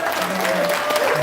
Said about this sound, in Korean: 열정적인 강의를 해주신 우리 정승관 회장님께 다시 한번 뜨거운 박수 부탁드리겠습니다.